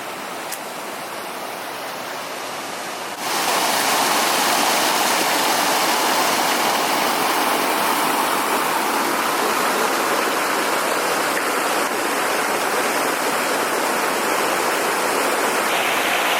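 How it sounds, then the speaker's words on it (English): A small waterfall at a resort lobby area rushes steadily, a constant broadband splash that jumps louder after a few seconds and then holds even. "Little waterfall area there"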